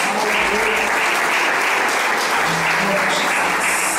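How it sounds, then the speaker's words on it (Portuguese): A church congregation applauds during an evening worship service, a loud continuous roar of many hands clapping for several seconds, with a voice faintly heard beneath it. "Aplauda o Senhor nessa noite, irmãos."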